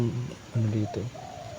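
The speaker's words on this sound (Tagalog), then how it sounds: "may ibon" A pigeon or dove coos several times in low, rounded, rolling calls at moderate volume, over a steady background hiss.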